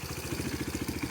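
A 2022 X-Pro Titan DLX 250cc engine with a Nibbi carburetor idling steadily nearby, an even low, rapid chugging pulse.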